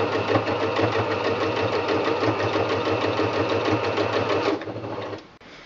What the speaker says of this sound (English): Now it's time to get out the sewing machine and sew along the line.